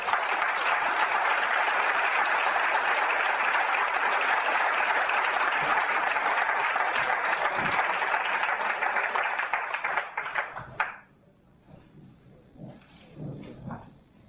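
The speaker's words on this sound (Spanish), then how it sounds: "el primer aplauso por vosotros que sois curiosos, soñadores, inquietos y que venís a aprender como nosotros" A talk audience bursts into sustained, dense applause, loud and steady for about ten seconds before cutting off abruptly, leaving quiet room noise and a few scattered sounds.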